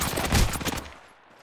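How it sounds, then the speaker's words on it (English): A quick, loud burst of automatic gunfire rattles out in the mobile video game Apex Legends Mobile, then fades out after about a second. "Getting shot at. Taking fire."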